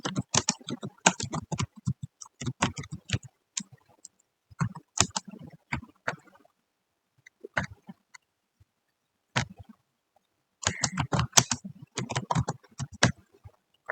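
Someone types on a computer keyboard in quick bursts of clicky keystrokes, separated by pauses and short silences, close and alone.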